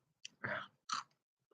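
Tortilla roll chips (lime-flavored Doritos) being crunched in two separate bites, close and fairly quiet, each a short crisp burst of chewing with no talking.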